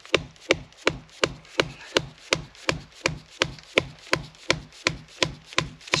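Rapid, regular wooden knocks as a stake is whacked into a tree stump in the woods, about sixteen sharp, close hits at an even pace with no talk.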